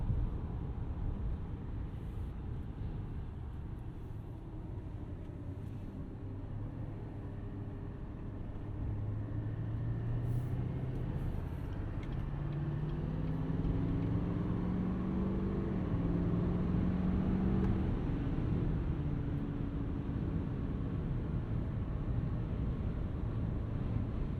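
A 2022 GMC Sierra 2500 Duramax diesel pickup cruising in strong wind, a steady low engine and road drone with rushing wind buffeting around the cab, engine tone rising and shifting midway, no talk.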